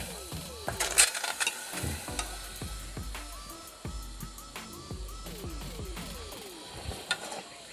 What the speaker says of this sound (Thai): แล้วก็จะใส่กุ้งไปรวนกันนะคะ